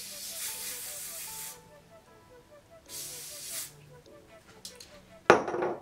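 Two long hissing bursts of spray onto a curly wig with a pause between them, close to the mic, followed later by a sharper burst near the end.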